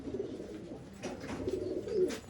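A home-bred pigeon of a traditional breed coos softly in a few short low calls, close and fairly quiet, with no talking.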